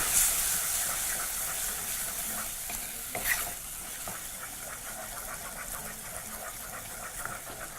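Ginger masala fries over medium-high heat in a pan with a steady, soft sizzle. It is stirred continuously, and gentle scraping strokes of a spoon sound throughout at a fairly quiet, close level.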